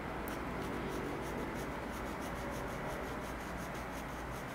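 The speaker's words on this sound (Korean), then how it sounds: "연필심 끝부분을 떼지 않고 이어서 계속해서 지그재그로 왔다 갔다 한다고 보시면 될 것 같아요" Pencil lead drawn zigzag back and forth across paper in a drawing exercise, giving a steady, close scratchy rubbing with a fast repeating rhythm that runs unbroken throughout.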